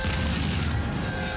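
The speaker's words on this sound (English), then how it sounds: "Something got blown up." Heavy explosion from the war film Full Metal Jacket, a sustained deep boom with rumbling low-end roar filling the whole moment, loud and continuous with no talk over it.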